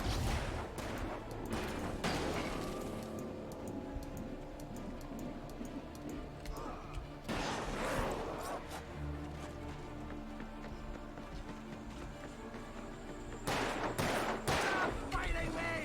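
Gunfire from shooting enemies in the video game Alan Wake, scattered shots and short bursts clustered near the start, middle and end, with game ambience between them and a player's voice now and then.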